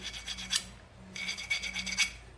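A brake caliper piston being sanded smooth during a brake caliper rebuild: two short runs of steady, close raspy rubbing strokes with a brief pause between, fairly quiet.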